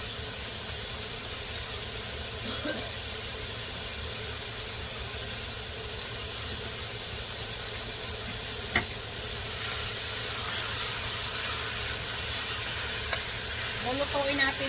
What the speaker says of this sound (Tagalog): Lulutuin natin siya sa kanyang mantika mga kaluto.